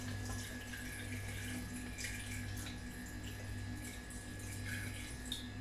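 Water poured into a container up to the 750 millilitre mark for mango juice, a steady hissing, splashing stream that runs continuously and fairly close.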